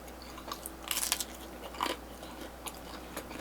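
Buffalo chicken pizza with blue cheese being bitten and chewed up close, a few crunchy bites followed by softer, quiet chewing.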